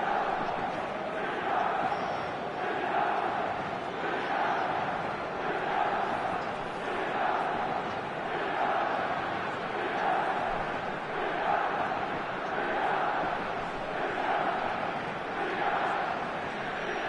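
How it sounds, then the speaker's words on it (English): Stadium crowd in an eFootball match on PS4 keeps up a steady, swelling roar of cheering and chanting, rising and falling in gentle waves throughout. "Certainly gave this crowd something to really cheer about."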